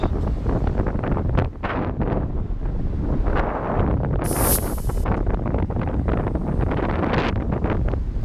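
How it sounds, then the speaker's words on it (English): Strong wind buffets the microphone with continuous rumbling gusts, loud and close, plus a brief high hiss partway through. "it's really windy right now"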